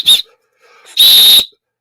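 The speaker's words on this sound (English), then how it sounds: "it doesn't take much to blow that little whistle" A small safety whistle on a caving helmet strap blows twice, a short blast followed by a longer, louder one, close and piercing.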